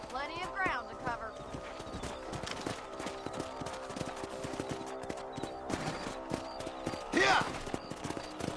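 Hoofbeats of a galloping horse in Red Dead Redemption on a ranch trail carry a steady clip-clop rhythm under ongoing talk, with a brief whinny near the start and another sharp burst near the end.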